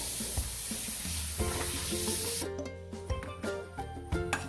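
Spices roasting in a pan on a gas stove for squid sukka, a steady dry sizzle with scraping and tapping of a spoon stirring, fairly faint and close.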